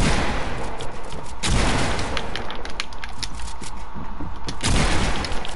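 Rapid, dense gunfire from a PS4 video game, with loud overlapping shots and heavy booming blasts that form a continuous fusillade and never let up, no talk.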